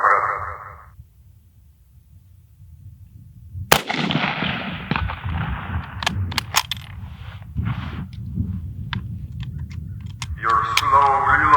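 Tank gun shots from the M41B in a video game, a sharp blast followed by scattered clicks and impacts amid game effects, with a tonal game sound at start and end.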